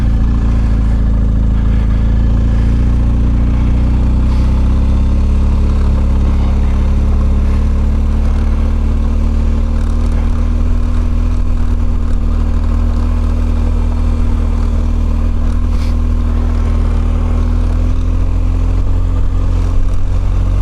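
A BMW R1250GS motorcycle is ridden through snow, its engine a loud, continuous drone that holds steady with slight shifts in pitch and no voices.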